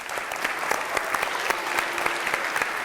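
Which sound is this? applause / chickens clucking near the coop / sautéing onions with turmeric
applause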